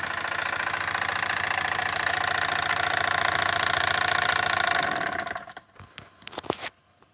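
A Jensen model steam engine with Teflon boiler gaskets runs steadily, driving a hooked-up generator with a continuous chugging hum for about five seconds; it then cuts off, leaving a few sharp clicks and taps nearby.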